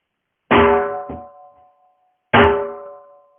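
Two booming dhol strikes, bass and treble heads hit together, with deep bass and a sharp slap, spaced about two seconds apart, each ringing out and decaying.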